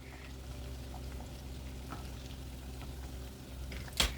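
Chicken pieces frying in oil over low-medium heat for crispy fried chicken give a steady, soft sizzle with faint bubbling, ending in a brief louder clatter near the end.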